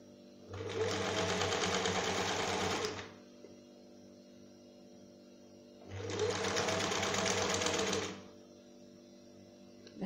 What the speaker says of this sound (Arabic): غادي نخيطوا الخياطه الاولى نبداو من الظهر هكذا.